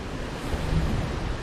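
Rushing water from a small waterfall in Ark Survival Evolved on the Lost Island map, a steady broadband roar that holds at a moderate level throughout with no voices.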